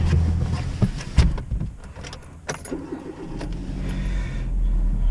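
A 2008 Hyundai Accent with newly replaced front brake pads is driven on a test run in Bensalem, its engine humming steadily under road rumble, with a few sharp knocks and faint bird calls outside.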